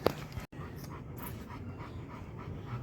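A dog pants steadily and rapidly at close range, with quick rhythmic breaths continuing throughout and no talking.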